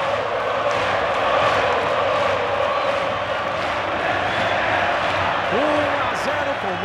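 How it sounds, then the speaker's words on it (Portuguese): Fluminense supporters singing en masse in the Maracanã stadium during a Libertadores match: a steady, roaring wall of crowd chant fills the space, with a commentator's voice riding over it. "E a torcida tricolor canta!"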